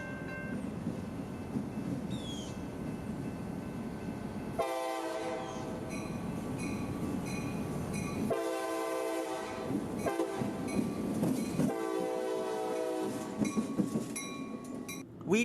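Freight train led by a GP38-2 diesel locomotive passing a railroad approach signal, repeated loud horn blasts in long and short bursts over a continuous rumbling engine and rolling wheel noise, fairly close.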